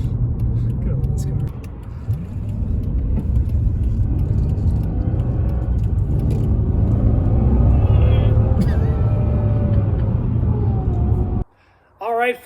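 A Mercedes CL600 V12 biturbo with a Renntech tune and a new transmission mount idling close by, a smooth steady rumble that cuts off abruptly near the end, with a voice speaking over it.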